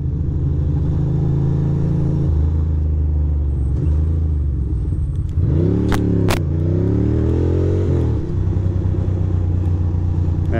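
A Ducati motorcycle rides through Queens, its engine rumbling steadily up close with a clear rev rising and falling in the middle before settling back to a low drone, no talk over it.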